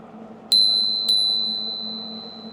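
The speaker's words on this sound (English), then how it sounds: "I'm going to use my bell first." An e-bike bell rings twice in quick succession, each bright ding sustaining and fading, while riding a park path past walkers, over a steady low hum of riding noise.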